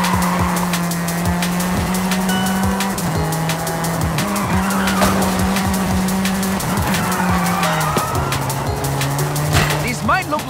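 A speeding car in Forza Horizon 5 skids through beach loungers, with a loud, sustained engine drone, repeated tire squeals and scattered crashing impacts over about ten seconds.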